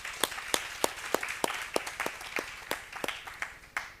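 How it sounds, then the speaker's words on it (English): Sparse applause at a book launch for student readers, a small group clapping with a few loud, distinct claps standing out in an uneven rhythm over a softer patter, fairly close. "Let's give them a round of applause."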